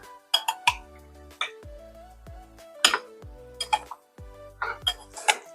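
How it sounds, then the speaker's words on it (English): A spoon knocks and scrapes against a dish while tofu is mixed, giving sharp, irregular clinks and clatters in close, uneven bursts. A low tonal hum sits steadily underneath. "Probably got the wrong spoon for this. It's a little bit hard to mix up here."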